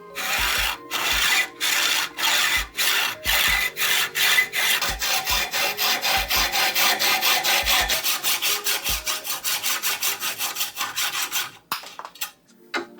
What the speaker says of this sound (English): just to control the first cut and make sure it's nice and clean. And then you can start to get into a rhythm.